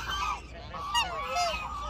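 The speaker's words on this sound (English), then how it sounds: "Oh, the noisy geese." Geese honk loudly and repeatedly at close range in an outdoor spot where black swans are kept, a noisy flock calling in overlapping bursts with no talking.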